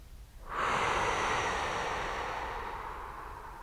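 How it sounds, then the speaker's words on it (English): A deep breath drawn in during a therapy session: a sustained, close, airy inhale that starts abruptly and holds steady for about three seconds, slowly easing off, with no talking. "Take a nice deep breath in."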